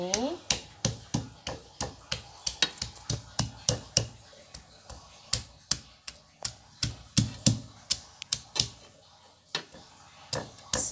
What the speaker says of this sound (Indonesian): Bawang merah dan bawang putih agak kita haluskan, tapi nggak perlu halus sekali